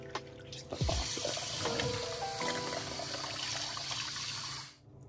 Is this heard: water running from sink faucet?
yes